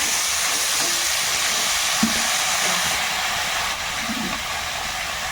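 Potatoes and whole tomatoes frying in a pan of oil, a steady broadband sizzle that holds at an even level throughout, with a few faint stirring knocks underneath.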